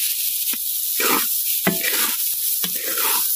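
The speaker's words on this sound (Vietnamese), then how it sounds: "Thích cái là mình chiên cơm là phải cho nó có khét khét dưới nè" Fried rice sizzling in a pan, deliberately left to crisp and scorch on the bottom, with a steady hiss broken by repeated scraping stirs of a utensil against the pan.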